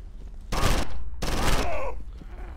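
Gunfire in the video game Condemned: two loud, close bursts of rapid shots, each lasting under half a second and separated by a brief pause, with a low rumble between them.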